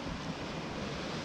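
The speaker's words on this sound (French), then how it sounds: "il y a des grosses vagues" Big, rough sea waves on a choppy coast roar as a dense, continuous wash of surf and wind, steady and moderately loud with no voices.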